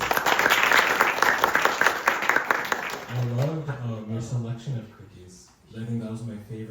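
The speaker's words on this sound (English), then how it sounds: "Can we give them another round of applause?" Loud audience applause after a Ramanavami concert fills the first half, then fades as a voice begins speaking over the last of the clapping.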